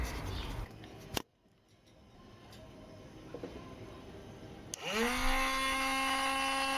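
A cheap drill with loose bearings and lots of end float routing copper off a PCB: a click and a quiet stretch, then the motor spins up into a loud whine with chattering overtones.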